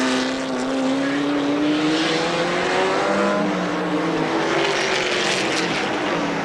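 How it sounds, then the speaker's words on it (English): Race cars at Pocono in the 1981 IMSA Kelly American Challenge roar continuously and loudly, the engine notes rising and falling in pitch as cars pass through the S-curves, with no voices. "We got Felton working his way into the S's and a car smoking up ahead of him, it looks like"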